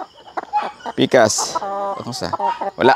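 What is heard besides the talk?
Lohmann layer pullet chickens clucking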